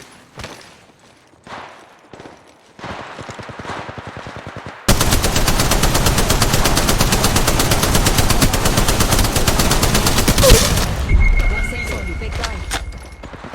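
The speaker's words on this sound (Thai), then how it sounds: "พวกเขาเห็นฉันแล้วฉันกำลังยิงต่อสู้อยู่" Rapid, sustained automatic fire from a Spitfire light machine gun in Apex Legends Mobile, loud and continuous for several seconds after a few quieter bursts, with a voice talking over parts of it.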